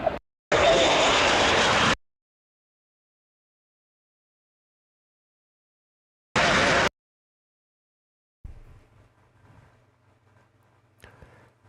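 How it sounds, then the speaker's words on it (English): A military fighter jet flying overhead, heard as two loud roaring bursts that start and stop abruptly, followed by a faint low hum. "That looks like an F-16. That's an F-16."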